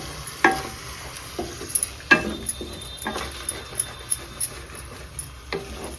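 Masala frying in a pan while being stirred, with a soft steady sizzle under sharp scraping and clicking strokes of the spoon against the pan at irregular intervals, close by.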